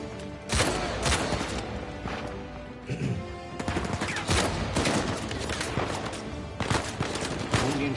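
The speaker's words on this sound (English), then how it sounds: "Oh, gunfire. Pretty loud, I guess." Gunfire in the video game Uncharted: dense bursts of automatic fire and scattered single shots crack and overlap for several seconds, loud and continuous, with an occasional brief voice underneath.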